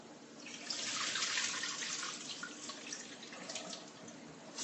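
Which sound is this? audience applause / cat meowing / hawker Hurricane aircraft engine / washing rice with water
washing rice with water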